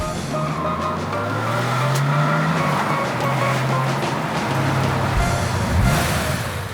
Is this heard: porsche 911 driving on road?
yes